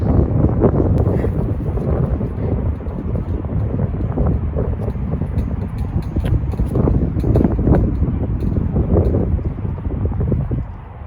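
Gusty wind buffets the microphone on a disc golf course, a loud, continuous low rumble that swells and eases throughout with no voices over it.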